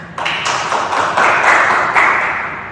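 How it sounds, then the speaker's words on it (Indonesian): A classroom group of students claps together, starting abruptly and holding as dense, even clapping that swells slightly before tapering off. No one talks over it. "Beri tepuk tangan semuanya"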